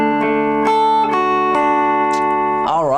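Clean guitar plucking a slow riff, single picked notes ringing out one after another with sustained tones, played alone and up close, ending in a quick bent or wavering note.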